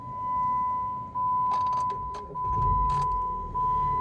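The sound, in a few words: 2015 Jeep Patriot engine starting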